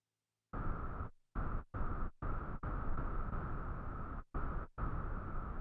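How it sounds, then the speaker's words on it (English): Modeled electric noise from an Arturia KORG MS-20 V software synth with both oscillators turned down and the high-pass filter open: a steady broadband hiss that starts and stops in several bursts separated by short silent gaps, heard alone. "The sound that we hear is just the modeled electric noise."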